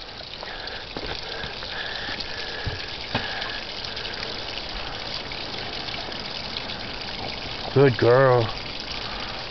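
Spring water runs in a soft, steady trickle outdoors, close and fairly quiet, while someone speaks gently to a dog named Liberty and a brief squeaky vocal sound rises near the end.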